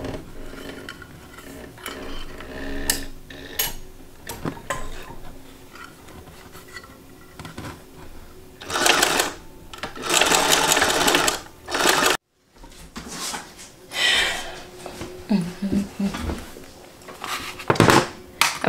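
A sewing machine stitches fabric along a drawn line in several bursts of rapid mechanical whirring, separated by pauses filled with small clicks and handling noises; no one speaks.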